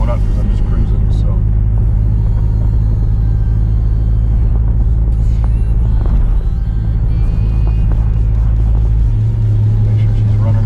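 A Jeep SRT running on E85 after a conversion kit install cruises along, its engine giving a loud, steady low rumble with road noise that holds unbroken throughout.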